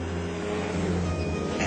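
A 1986 Porsche 944 Turbo engine runs nearby with a steady, low droning hum, holding an even level for the whole short stretch without any clear rise in revs.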